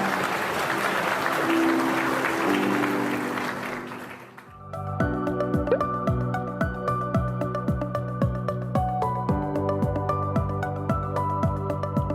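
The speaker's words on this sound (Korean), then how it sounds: "우리 하나님 앞에 영광의 박수 올리시나." A church congregation claps in praise during a worship service, a broad wash of applause for about four seconds that then gives way to music with piano and a steady beat.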